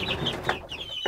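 Chicks in a homemade wooden brooder with shelves, mesh floor, feeder, drinker and heat lamp chirp and cluck steadily throughout at close range, with no talking.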